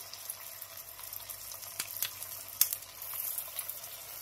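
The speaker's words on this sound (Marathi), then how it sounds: "आता मम्मी तळायला घेते लगेच." Aloo tikki patties frying in hot oil in a kadhai, a steady soft sizzle with faint crackles and a few sharper pops, fairly close and with no talking.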